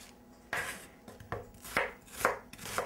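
A knife slices Vidalia onions about a quarter inch thick, making six or so crisp, quiet cuts that land on the board at an uneven, unhurried pace, with no voices.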